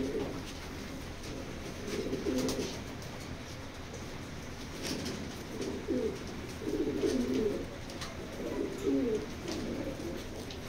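Fancy-line pigeons, racer and breeder types, cooing repeatedly in soft low rounded phrases every second or two over a steady background hiss, close and moderately loud.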